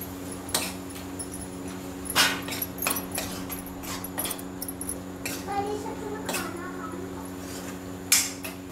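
Tamarind flower (khurhur) vegetable being stirred in a pan brings scattered metallic clinks and scrapes of a spoon against the pan, spaced irregularly under a low steady hum, with talking in between.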